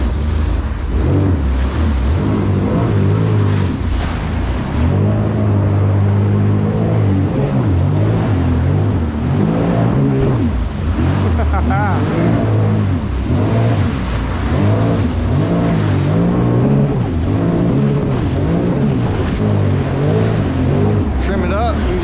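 Sea-Doo Spark Trixx personal watercraft engine revving steadily in sport mode on open water, a loud continuous drone with water rush, while someone talks over it throughout.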